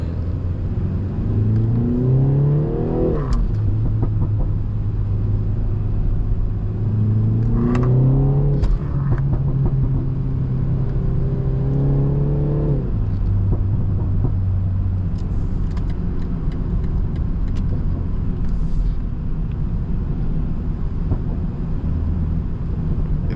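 A 340 hp BMW 330i four-cylinder heard from the driver's seat, revving repeatedly in rising and falling sweeps over a steady low cabin drone, loud and close throughout.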